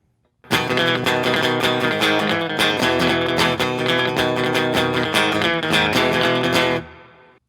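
Electric guitar plays the chords of a song through distortion, a loud driving run of strummed chords lasting several seconds before ringing out and stopping.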